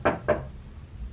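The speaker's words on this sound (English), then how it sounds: "Yeah, just do a knock." Two sharp knocks on a door, a fraction of a second apart, close and fairly loud, followed by quiet room tone.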